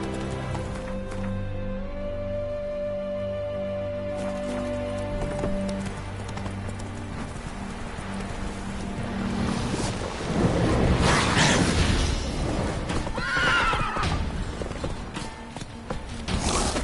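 Roach, a horse in The Witcher 3: Wild Hunt Blood and Wine, clip-clops along in a steady galloping rhythm with a faint whinny, under swelling music and rumbling ambience that grows louder and busier in the second half.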